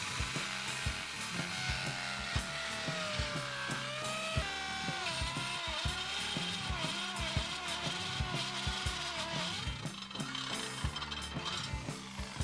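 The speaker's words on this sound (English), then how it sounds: "The power drill." A power drill grinding into a Nemesis wheel clamp, a continuous loud motor whine that wavers and dips in pitch as it bites into the metal, steady throughout.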